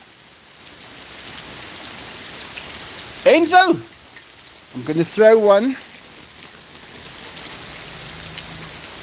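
Steady rain falling outdoors, a continuous soft patter throughout, with a man calling out to a dog partway through.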